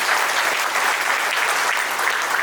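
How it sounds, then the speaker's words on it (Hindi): An audience in St. Thomas Catholic Church, Mayabunder, applauds the priests at an ordination, a thick, steady roar of many hands clapping at once, loud and sustained without pause. "कृपया जोर से ताली मारेंगे सभी पुरोहितों के लिए।"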